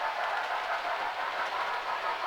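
A model railway train runs steadily along the track, a continuous rolling clatter with faint rhythmic clicks and no voices.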